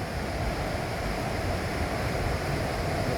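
Rolling water in the Quinault rain forest on the Washington Peninsula, a constant broad rushing roar that stays steady and fairly loud from start to finish, with no talking.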